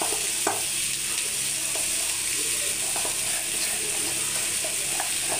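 Mashed potato frying in a pan, a continuous soft sizzle with light stirring clicks and scrapes, steady and close with no talking.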